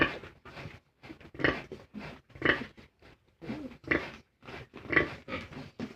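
Piglets grunt and squeal close by in short, repeated bursts separated by brief pauses, with about seven or eight calls at moderate volume.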